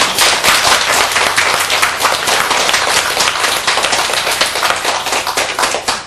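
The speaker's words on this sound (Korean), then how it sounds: "알았거든 박수 좀 쳐봐요" Loud, sustained applause from an audience at a Buddhist Lotus Sutra lecture, dense clapping filling the whole stretch without a break.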